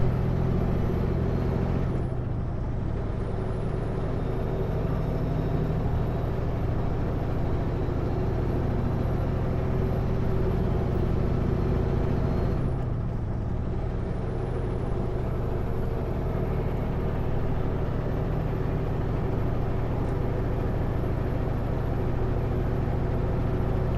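Semi truck hauling a trailer through a roundabout in Yakima, a deep steady diesel drone with road rumble, rising and easing as it rounds the curve, close and continuous with no speech.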